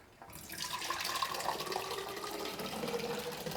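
Water runs steadily from a tap into a sink while developed film is rinsed and washed, a continuous broadband hiss and splash that starts abruptly after a brief quiet moment and keeps going at an even, moderate level.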